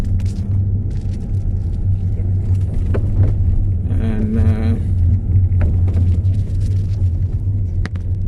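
A car driving along a road toward Salford Quays, UK, with a steady low rumble of engine and tyres from inside the cabin, a brief rising whine midway and soft talk beneath.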